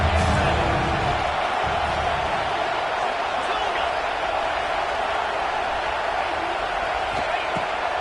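A football stadium crowd roars in a constant, dense wall of noise during a Penn State game, loud and sustained for the whole stretch without clear breaks.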